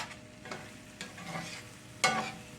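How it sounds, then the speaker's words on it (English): Spoon scraping the bottom of a pan while cooking Cajun crawfish pie filling, a few soft scrapes and stirs, then a sharper louder scrape near the end, fairly close over a quiet background. "scrape that bottom of that pan, get that flavor off when you make this."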